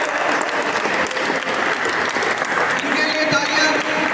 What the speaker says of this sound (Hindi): इनके लिए तालियां पूरी बजनी चाहिए।